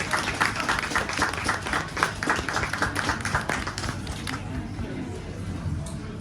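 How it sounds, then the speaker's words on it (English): An audience at a coming-of-age furisode kimono showing at a Japanese market claps in a loud burst that tapers off after a few seconds, with voices talking over the applause and continuing after it fades. "big round of applause."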